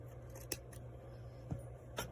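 Scissors give three quick, crisp snips a second or so apart, trimming the fabric corners of a washable medical mask; the sound is faint and close, with no talking.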